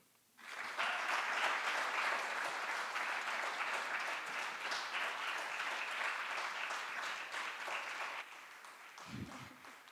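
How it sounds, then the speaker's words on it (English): A plenary-session audience gives a speaker sustained, full applause for about eight seconds, steady and fairly distant, before it thins out and a brief low voice follows. "Let's give him one more round of applause."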